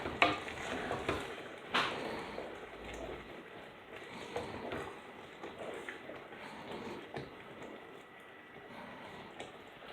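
Quiet stirring of chicken malai palak, chicken in a creamy spinach gravy with milk and cream, in a pan, with soft wet scraping and low sizzling, a few sharper spoon knocks early on.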